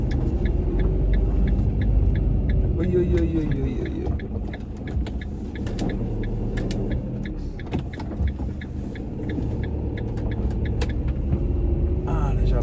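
A car passes by on a road, a steady engine rumble that swells and fades nearby, with a voice speaking over it briefly.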